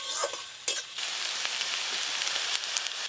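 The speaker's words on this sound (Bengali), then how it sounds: "ওই মাছ ভাজার তেলে পেঁয়াজ কুচি দিয়ে দেব।" Chopped onion dropped into leftover fish-frying oil over a clay village stove, a bright crackling sizzle bursting up with stirring scrapes, then settling into a continuous loud frying hiss.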